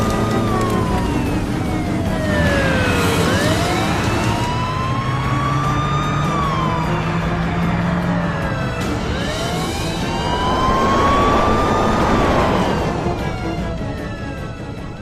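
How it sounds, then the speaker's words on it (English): Police car sirens wail and yelp loudly in sweeping rising and falling cycles during a high-speed car chase, with engine and road noise rumbling underneath throughout. "now we're caught up in a high-speed car chase"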